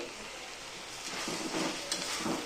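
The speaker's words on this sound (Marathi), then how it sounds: "हे बघा चांगली परतवते मी ते आता कांदे" Onions being sautéed in a pan for a garlic chicken curry gravy, a soft continuous sizzle with a few gentle stirring scrapes, fairly quiet and without talk.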